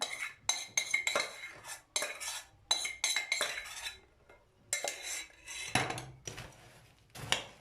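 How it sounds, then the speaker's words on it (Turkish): A spoon stirs a thick mixture of melted butter, chocolate, cocoa, hazelnuts and crushed biscuits in a bowl for a mosaic cake, producing repeated close scraping and clinking strokes with short pauses between them. "Tereyağı, çikolata, kakao, fındık, bisküvi karışımını tamamen karıştırıyoruz."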